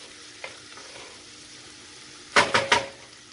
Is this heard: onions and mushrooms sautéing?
yes